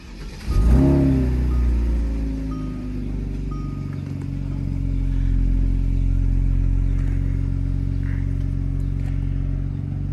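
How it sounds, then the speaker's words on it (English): A Kia Stinger GT2 engine cranks and catches with a loud burst, then settles into a steady, deep idle that swells slightly in a mild rev midway, running alone without any voices. "this was my first time starting the car after installing the brake snip"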